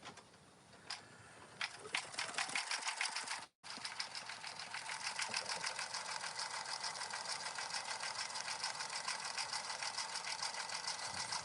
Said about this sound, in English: we are gonna stitch our backing down